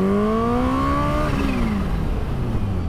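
Kawasaki Ninja H2 motorcycle engine rising steadily in pitch under acceleration, then dropping off as the throttle closes, loud and close with a strong humming tone and no talk.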